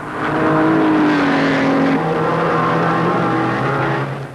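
Maserati racing cars roar past in a motor race, loud engine notes rising and falling with harmonic whine, steady and close throughout with no talk.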